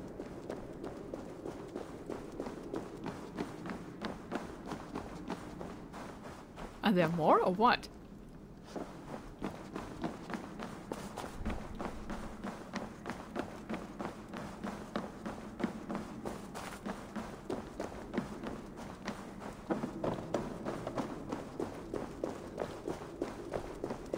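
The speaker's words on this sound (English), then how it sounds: "That sound. Is it thunder? Footsteps." An approaching army marches in Assassin's Creed Valhalla, a continuous patter of many footsteps heard near and steady, with a brief louder burst partway through, while someone speaks now and then.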